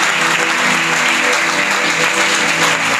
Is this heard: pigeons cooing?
no